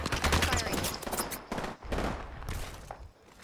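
Dense bursts of gunfire in the video game Apex Legends, a loud sustained volley of rapid shots that pauses briefly and then resumes, with layered impacts throughout.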